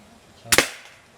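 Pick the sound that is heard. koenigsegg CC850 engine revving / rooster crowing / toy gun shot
toy gun shot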